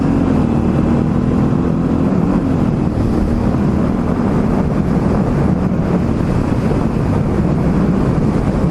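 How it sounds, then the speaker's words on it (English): Strong wind buffets the microphone of a moving vehicle on a highway, a loud continuous low roar with no break and no talk. "Much wind, holy shit."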